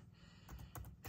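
A handful of soft keystrokes tapped on a computer keyboard, faint and close, a few quick clicks in a brief burst with no talk.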